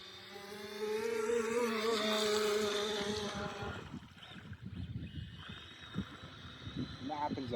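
A Joysway E1 Racebird RC boat converted to a 3S brushless motor whines loudly with rising and falling pitch as the throttle is worked, then drops to water splashing and rumble, with people talking nearby.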